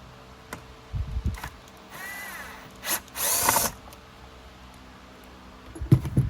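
A power drill works on the wheel axle of a Simplicity Symmetry Riccar Vibrance vacuum cleaner nozzle, with short close whirring bursts of the motor separated by pauses and small handling clicks.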